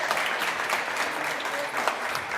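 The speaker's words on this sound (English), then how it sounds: "Please give a round of applause, our CEO." Audience applause for a company CEO at a community gathering, a steady dense wash of clapping hands from a sizable crowd, continuous and fairly loud throughout.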